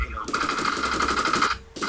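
In COD Mobile gameplay, a rapid automatic gun fires a sustained burst lasting over a second, crisp and close, followed by a brief pause and the start of another burst.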